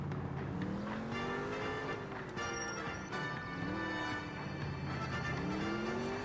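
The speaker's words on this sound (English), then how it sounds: "this car sounds really cool." Car engine in the video game L.A. Noire, revving up and down through gear changes in a continuous close drone while driving, with no talk.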